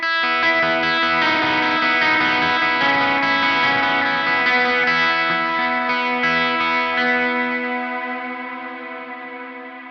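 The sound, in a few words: electric guitar through The Mutt pedal with heavy reverb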